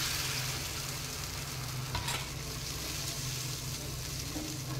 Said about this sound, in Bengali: এবার একটু কষিয়ে নেব মশলাটাকে